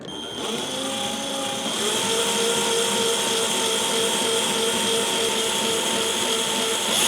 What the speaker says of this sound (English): hold the wire firmly in place and let the drill do the work